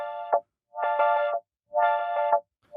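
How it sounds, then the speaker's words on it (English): An Ableton Live drum rack pattern runs through echo and auto filter effects, producing three bursts of buzzy, heavily filtered, distorted tones separated by short silences, with a rhythmic pulsing inside each burst. "So now we have echo and auto filter on that track."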